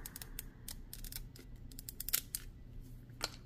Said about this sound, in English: cut them out with the scallop scissors because